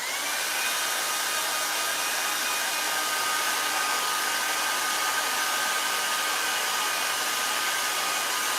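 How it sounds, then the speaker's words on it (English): A hair dryer runs steadily and loudly for the whole stretch, blowing air to dry sprinkle-topped balloon donuts, a continuous broadband whoosh with a faint whine and no talking. "I'm going to use my hair dryer"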